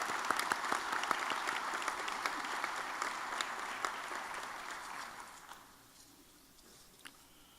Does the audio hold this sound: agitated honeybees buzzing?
no